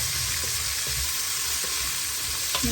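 Three or four medium onions sautéing in a pressure cooker for biryani, a dense continuous sizzle and frying hiss close by, with faint stirring scrapes and no talk.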